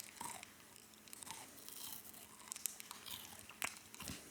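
Bites and crunches into a Japanese chocolate graham cracker wafer candy, with several sharp, close crisp cracks and crumbly chewing spread through the moment, loud against a quiet room.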